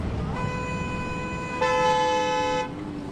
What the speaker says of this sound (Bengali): অনবরত গাড়ির হর্ন আর মানুষের ভিড়ের মধ্যে